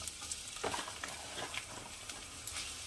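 Chopped onions frying in hot refined oil, a dense steady sizzle with light stirring scrapes and small pops throughout, close and fairly loud, no voices.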